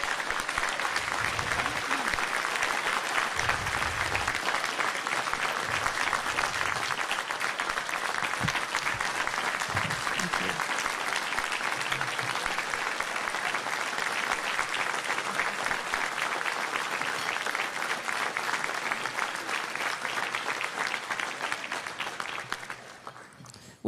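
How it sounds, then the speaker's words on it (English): Long, sustained applause from an audience honoring firefighters, police and Marines, a steady dense clatter of many hands lasting over twenty seconds with a few low murmurs underneath before it abruptly stops. "So let's give them a big round of applause."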